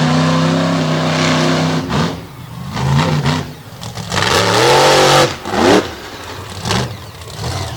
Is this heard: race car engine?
yes